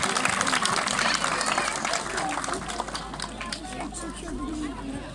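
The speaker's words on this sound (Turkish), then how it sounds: "Kendisine de şöyle kocaman bir alkış istirham ediyorum." Guests at a Turkish civil wedding ceremony applaud in a sustained burst, clapping loudly amid crowd murmur and babble, with a low hum underneath and voices mixed in.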